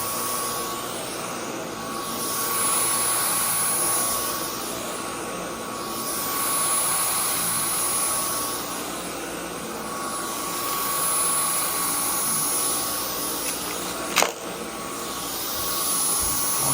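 Dyson V10 Animal cordless vacuum cleaner running indoors with a steady high whine and airy rush that swells and fades as it moves, one brief click partway through.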